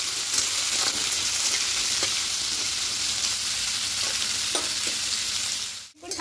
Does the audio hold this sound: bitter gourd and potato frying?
yes